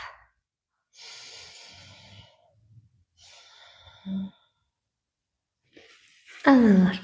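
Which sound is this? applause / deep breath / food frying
deep breath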